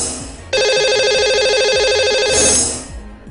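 A telephone rings on a live phone-in show while the host calls a lucky caller, the steady electronic ring tone playing loud and alone for about two seconds.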